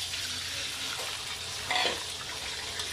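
Eggs poured into a hot pan with garlic-fried oil while making fried rice for Vietnamese chicken rice give a steady close sizzle, with a brief louder hiss in the middle and talk over it.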